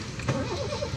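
Car engine cranking and catching as the key turns, a rough mid-pitched rumble swelling near the start and then settling into a steady idle, with a faint voice briefly in the background.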